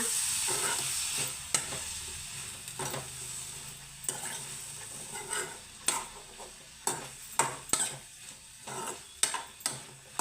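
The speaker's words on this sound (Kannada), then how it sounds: "ಒಂದು ಸ್ವಲ್ಪ ಫ್ರೈ ಆಗ್ತಾಯಿದೆ. ಫ್ರೈ ಆಗಲಿ." Ridge gourd frying in a garlic-ginger tempering, with a steady sizzle throughout and repeated scraping stirs of a spoon in the pan growing sharper and more frequent toward the end. No voices.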